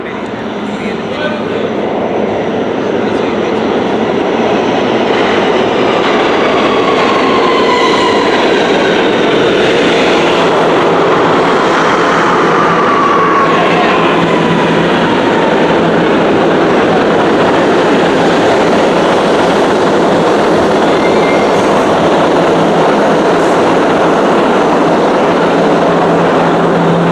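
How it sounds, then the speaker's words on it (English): An MTA R211A C local subway train rides underground in New York, its loud steady rumble and wheel roar continuous throughout, with brief squealing tones rising above and people talking faintly beneath. "A brand new C train."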